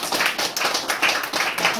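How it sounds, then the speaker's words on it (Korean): An audience at a sales training seminar claps in a steady burst of many hands, loud and close, with a brisk, even rhythm lasting about two seconds. "박수 한번 쳐주세요."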